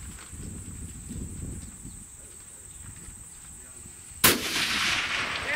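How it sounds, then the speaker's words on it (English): A long-range rifle fires one sharp, loud shot at a steel plate target outdoors, the crack followed by a lingering wash of noise after quiet, talk-free moments. "Alright, I'm shooting one more."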